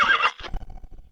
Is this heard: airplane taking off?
no